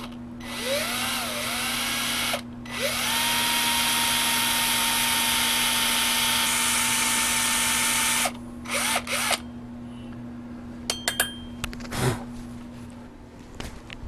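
Power drill boring decorative holes with a cutter head into a wooden twig vase: several steady whining runs of the drill, each about two to six seconds, separated by brief pauses, then quieter clicks and handling noises at the end.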